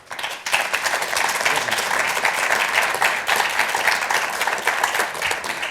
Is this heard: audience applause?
yes